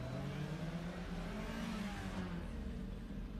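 A Subaru BRZ runs an autocross course at a CFR Solo event at Daytona, its engine droning and revving steadily at moderate distance, with no talk over it.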